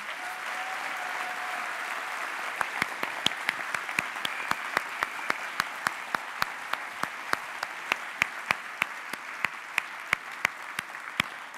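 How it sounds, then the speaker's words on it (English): Audience applause for lightning talk speakers swells from a crowd wash into a run of loud, evenly spaced rhythmic claps, a near single clapper standing out over the crowd. "could you please give a massive round of applause to all of the speakers"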